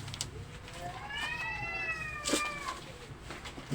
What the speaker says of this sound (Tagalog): Dami dito pusa. Ingay.